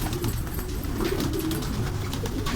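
Racing homer pigeons coo softly and continuously nearby in a loft during feeding time, with low rolling calls overlapping against a steady background hum.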